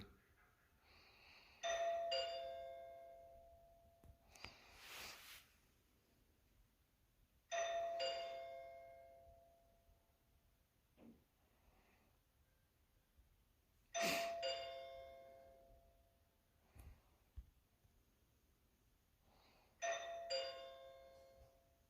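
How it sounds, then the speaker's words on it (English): A doorbell chime played from a YouTube video rings four times at spaced intervals, each ding-dong bright and slightly tinny as if played through a small speaker, with quiet between. "I'm going to look at doorbell sounds playing through YouTube."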